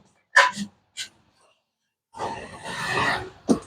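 A dog gives a few short, sharp barks near a car, scattered in brief bursts, with a stretch of louder noisy sound between them.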